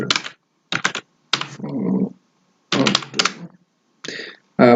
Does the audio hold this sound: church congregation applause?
no